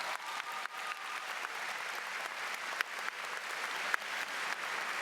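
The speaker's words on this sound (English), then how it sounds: "Can you give them a round of applause, please?" A high school graduation audience applauds teachers and staff in a building, sustained, dense clapping from a large crowd with a few sharper nearby claps.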